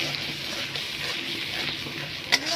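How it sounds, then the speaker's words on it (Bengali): Spice masala with turmeric, cumin, chilli and Kashmiri chilli powder and salt, along with fried potatoes, sizzles steadily in hot oil in a pan, a continuous soft hiss broken by one brief scrape near the end. "এই দেখো মশলাটা কষানো হয়ে এসছে তেল ছেড়ে দিয়েছে"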